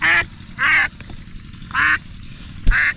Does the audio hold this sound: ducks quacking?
yes